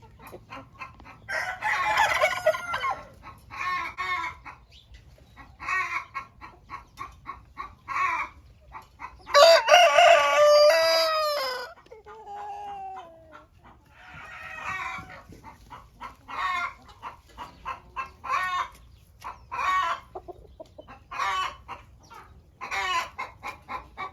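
Roosters crow loudly and repeatedly among hens clucking in a poultry yard, the crows standing out over a steady stream of close, rhythmic clucks.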